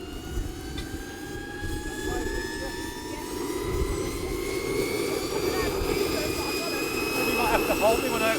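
Model jet engine buggy running at an outdoor model air show, a loud steady turbine roar with a rising whine that builds gradually, while people talk nearby.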